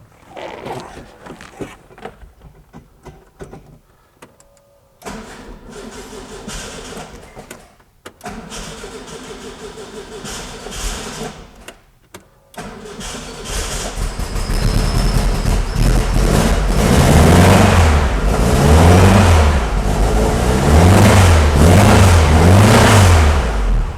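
Volkswagen Bug engine after a fuel leak repair: clicks and handling noises, a couple of cranking attempts, then the engine catches and runs loudly with repeated revs rising and falling.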